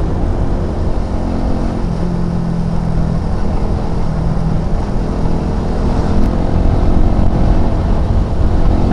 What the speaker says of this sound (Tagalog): Ang smooth ng makina ko, na-enjoy ko siya.